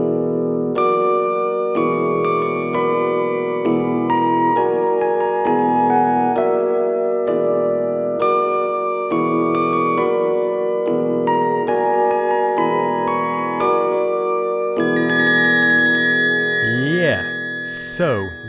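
A melody in the D whole tone scale plays over sustained harmony, a sequence of held, slightly buzzy tones with moving upper notes, ending in quick gliding pitch sweeps near the close.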